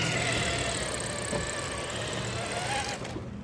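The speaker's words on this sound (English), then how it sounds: "I'm trying to back up a golf cart and drive this." A golf cart engine drones steadily while reversing, a continuous close mechanical hum that holds even throughout and eases off slightly at the very end.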